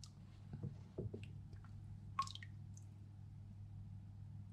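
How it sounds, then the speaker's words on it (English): A Naniwa Aotoshi green whetstone soaks in water, giving off faint scattered bubbling, small drips and soft gurgles over a low steady background hum, with no talking. "there are bubbles coming out, so we'll just let it sit for a bit"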